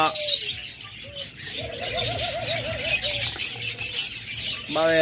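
Caged lovebirds and cockatiels chirp and call near at hand, with short repeated whistling notes, trills and squawks rising in a busy cluster over faint background noise.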